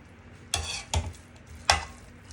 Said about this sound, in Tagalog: haluin mo lang ng haluin